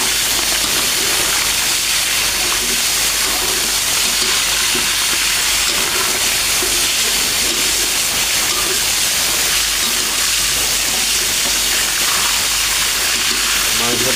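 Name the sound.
meat sizzling while frying in a pot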